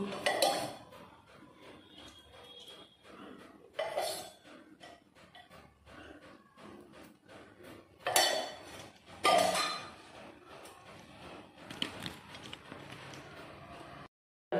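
A wok is set on the stove to cook prawn malaikari, with bursts of metallic clanking and clattering of cookware and utensils, a few louder knocks standing out against quieter kitchen handling and no talk.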